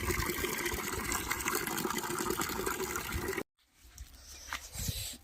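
Water runs steadily into a container in a village setting, a continuous gushing pour that stops abruptly partway through, followed by quieter handling noises and faint trickles.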